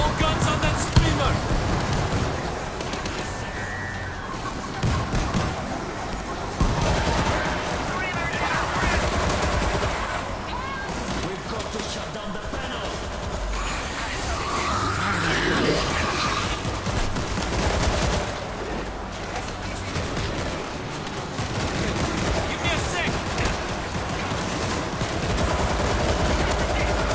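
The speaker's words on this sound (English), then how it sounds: "All guns on that screamer." Sustained gunfire in the zombie shooter video game World War Z, dense automatic bursts and impacts running continuously under game music, with players talking over the action.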